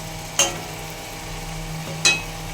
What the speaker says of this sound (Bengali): এবার আমি আলুগুলোকে দিয়ে একটু জাস্ট কষিয়ে নেব, যাতে আলুটা একটু সেদ্ধ সেদ্ধ হয়ে যায়।